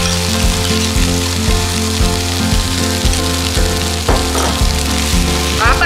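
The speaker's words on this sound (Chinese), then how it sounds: "刚才已经先煮过煮好的四季豆，把它们下去炒一下。" Boiled string beans stir-fried with preserved duck eggs sizzle loudly and continuously in a hot wok, with occasional clatters of stirring over a steady background hum.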